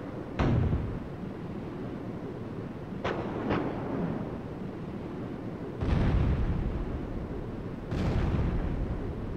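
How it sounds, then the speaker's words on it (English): Heavy gunfire at lifeboats in the video game Skies of Arcadia Legends: four booming blasts, one early, two close together near the middle and two later, each decaying into a rumbling, wind-like background. "He's firing at the lifeboats?"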